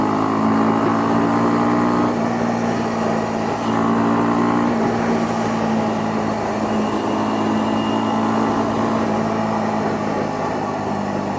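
A Honda CL250 motorcycle engine runs steadily in fourth gear after a quick downshift while following a truck on the road, giving a loud, continuous exhaust drone with wind noise and slight shifts in pitch.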